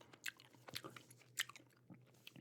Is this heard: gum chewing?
yes